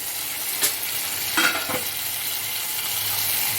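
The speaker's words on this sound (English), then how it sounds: "we'll saute it for 5 to 6 minutes" Omelet filling sautéing in a pan makes a steady, close sizzle, with a few brief scrapes and clinks as it is stirred, and no talking.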